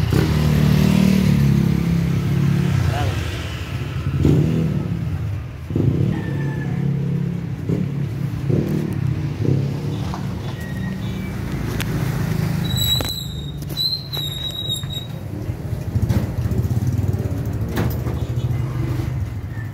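Motorcycles and cars pass a store at night in a steady stream of engine drones that swell and fade, with a brief high electronic beeping partway through and faint talk in the background.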